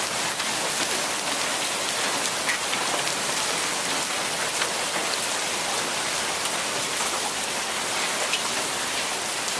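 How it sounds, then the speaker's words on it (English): Moderately heavy rain mixed with a steady fall of BB- to marble-sized hail drums continuously outdoors by a porch, a dense, even hiss with no voices. "moderately heavy rain, not super heavy by any means, and hail, a steady flow of hail"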